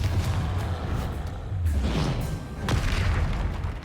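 A Confringo blasting spell detonates in the Harry Potter and the Dark Arts game, giving deep rolling booms over a low rumble, with heavier surges around the middle and near the end.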